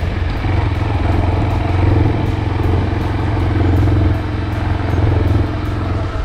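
A Honda CT125 upgraded from a four- to a five-speed gearbox rides along at low speed. Its small single-cylinder engine keeps up a steady, close, clattering drone with light ticking on top, and no one speaks.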